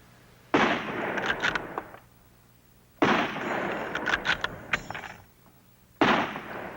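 Three sharp rifle shots fired in a timed silhouette-target test, each a sudden loud crack with a rolling echo and some mechanical clatter, spaced roughly three seconds apart.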